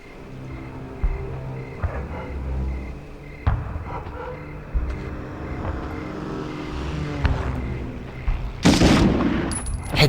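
Gunfire in a 1999 PS1 shooter, a series of sharp shots spaced every second or two over a steady engine-like game drone, ending in a louder burst of rapid fire.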